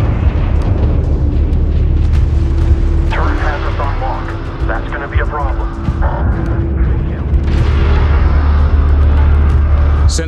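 A sensor post explodes in the Homeworld 3 space strategy game: a loud, continuous, rumbling blast sits under layered battle effects and radio chatter from the game, with a heavy low-end roar throughout.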